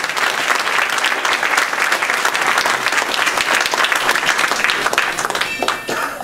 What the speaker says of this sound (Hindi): एक बार जोरदार ताली बजाइए इस दरबार के